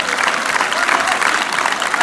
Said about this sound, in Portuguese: Um aplauso muito grande para quem ajuda esta tradição a manter-se bem viva.